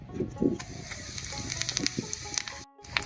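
Whole cumin seeds crackling and sizzling in hot mustard oil in a pan on the stove, a close, busy spatter of small pops over a steady hiss. No voices.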